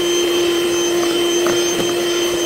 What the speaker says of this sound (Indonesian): Kemudian mixer lagi hingga semua bahan bercampur merata.